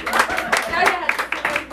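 An audience at a quinceañera with a youth mariachi band claps in quick bursts, with voices talking and calling out over the applause throughout.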